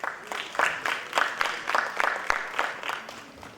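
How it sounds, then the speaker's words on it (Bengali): Audience at a conclave applauding in a steady rhythmic pulse of clapping, roughly three beats per second, moderately loud and sustained for a few seconds. "করতালিটা চলতে থাকো।"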